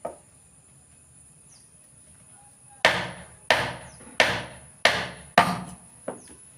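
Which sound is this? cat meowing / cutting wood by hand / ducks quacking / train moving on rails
cutting wood by hand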